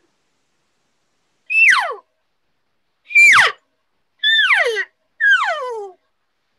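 A reed elk call blown to imitate a bull elk: four separate rising-then-falling squealing bugles with harmonic overtones, each about half a second long, spaced by short silences, close and clear with no other sound.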